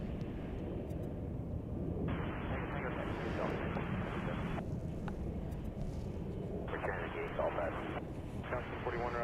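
A Boeing 747 takes off at Chicago O'Hare International Airport, its steady broadband jet roar running the whole time beneath intermittent radio voices.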